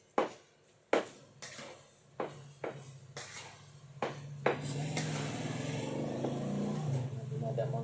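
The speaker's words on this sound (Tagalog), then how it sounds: "Dumadang motor." A motorcycle passes by a kitchen, rising into a loud, sustained engine drone after a series of sharp knocks and clatters from food preparation.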